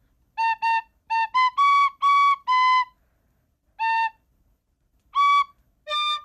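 A person whistles a bright, tuneful melody of short and held notes, close and clear, with brief pauses between phrases and no talking.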